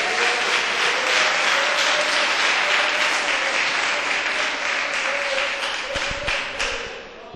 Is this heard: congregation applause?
yes